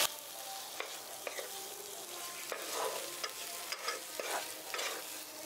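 A spoon works through brinjal bharta with chopped coriander leaves and garam masala in a pan, a soft quiet sizzle broken by several light scraping clicks spread irregularly through the stirring, with no voices.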